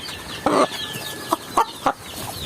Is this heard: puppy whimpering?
no